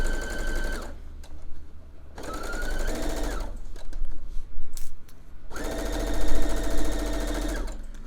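Sewing machine stitching a corner of fabric, close and loud, running in three steady bursts with short pauses between them, while the fabric is turned at the corner with the needle down.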